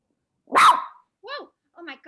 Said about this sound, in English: all of a sudden my computer just barked at me